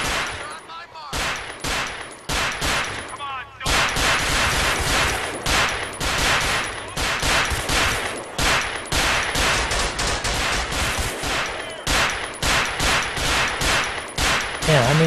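Rapid, repeated gunshots from a shootout in the LCPDFR police mod for a video game, with loud cracks and volleys packed closely together throughout and a few brief pauses.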